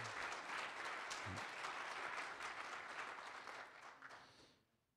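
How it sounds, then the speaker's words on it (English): Applause for safety award nominees at a company safety kickoff meeting, a steady round of clapping from a modest crowd, fairly faint, that fades out near the end. "So round of applause,"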